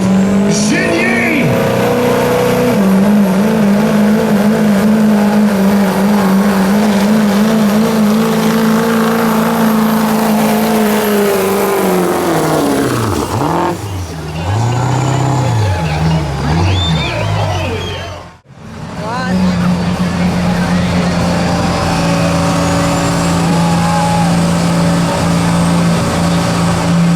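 A pulling truck's engine roars loud and sustained at full RPM down a truck-pull track at the Riceville Truck Pulls, the pitch wavering and dipping briefly near the end, with an announcer talking over it.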